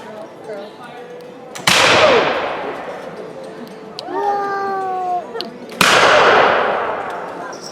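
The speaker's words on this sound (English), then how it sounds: "they were firing off black powder weapons. 75 caliber blunderbuss, rolling fire!" At a Renaissance faire demonstration, 75 caliber black powder blunderbusses fire in a rolling sequence, two loud, close booms each trailing off into a long decaying roar, with a brief whistling tone and crowd noise between shots.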